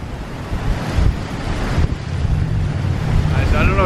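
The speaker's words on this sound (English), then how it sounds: "It's just windy out right now." Strong wind at the beach during Hurricane Ian, roaring gusts battering the microphone over crashing surf, loud and constant with surges in strength, no voice audible.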